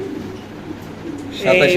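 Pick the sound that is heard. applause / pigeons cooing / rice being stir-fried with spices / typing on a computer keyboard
pigeons cooing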